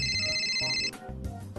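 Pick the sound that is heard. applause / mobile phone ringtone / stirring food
mobile phone ringtone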